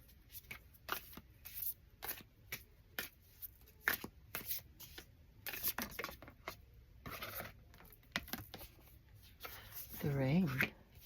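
Tarot cards are shuffled up close in quick bursts of crisp riffling and sliding, interspersed with quiet pauses, with someone talking softly alongside.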